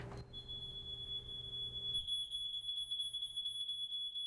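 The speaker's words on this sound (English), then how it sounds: "the alarm going off" A high, piercing electronic alarm tone sounds continuously, starting abruptly after a brief low rumble and holding steady and loud to the end.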